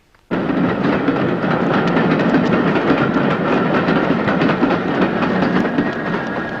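A train rumbles past close by at a railway station, a steady loud roar with rhythmic clattering of wheels on rails, starting abruptly and continuing without a break.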